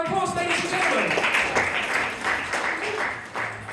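Applause rises from a live crowd at a comedy hypnosis show at a fringe festival, with a voice talking over the start before the clapping fills in and tapers slightly toward the end.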